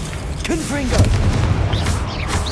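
A fiery Confringo spell blast in the game Hogwarts Legacy, a booming burst with rumbling low end that lingers for about a second under a shouting voice.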